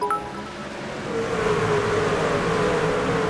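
Race trucks in the iRacing video game accelerate off turn 4 at Lucas Oil Raceway, a dense, steady engine roar that builds slightly as the pack goes to full throttle, with no talk over it.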